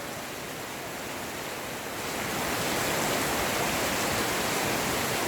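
Heavy rain pours during an outdoor horse riding lesson as a dense, steady hiss that swells slightly louder partway through, with no talk.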